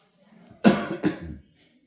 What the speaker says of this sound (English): Sorry for this cough and everything